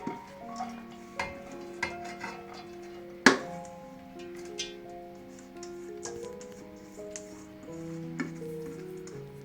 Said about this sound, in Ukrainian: смажимо, щоб наша морка була така до півготовності втушена